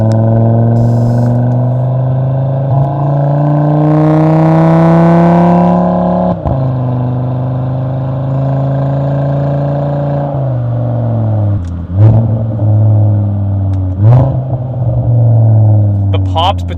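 An Audi RS3's five-cylinder engine with an aftermarket exhaust drones loud and close as it pulls through gears, its note dropping at each shift, followed by sharp crackling pops between the later shifts.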